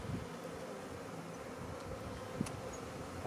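A bare swarm of honeybees clustered among branches during capture, producing a steady, dense buzzing drone that holds evenly throughout, fairly close, with a brief louder tap partway through.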